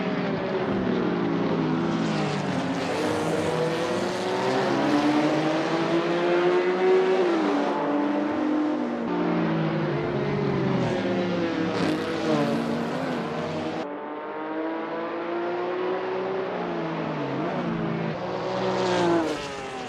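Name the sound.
60s race car driving at Montjuic in video game Assetto Corsa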